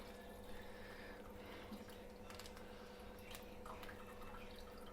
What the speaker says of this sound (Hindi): अब हम इसमें दूध को डालेंगे।